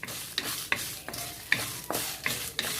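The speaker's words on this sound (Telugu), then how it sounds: "చివరిలో ఎండుమిరపకాయని వేయించుకుందాం." Dried red chillies fry in a pan with a little salt and seeds, sizzling softly while a spoon scrapes and stirs in regular strokes about every half second; quiet and close, with no talking.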